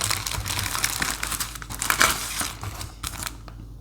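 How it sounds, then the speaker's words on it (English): Packaging crinkles close up in a continuous rustling crackle for about three seconds before tapering off. "sorry, crinkling"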